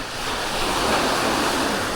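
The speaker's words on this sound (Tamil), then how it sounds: "காற்று தான் கொஞ்சம் அதிகம்" Strong wind and sea waves on a shoreline during a shore jigging trip, a steady loud rushing roar of surf and gusts buffeting the microphone, continuous throughout with no talk.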